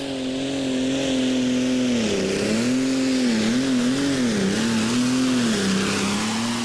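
A Pro Stock diesel drag car launches at a drag race with the clutch slipping, a loud, sustained engine drone whose pitch dips and wavers repeatedly as it bogs and pulls away.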